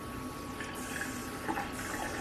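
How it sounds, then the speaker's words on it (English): Faint, steady hiss of cool tap water running into a sink, continuous and fairly quiet, with slight splashing variations. "you want to run some cool water"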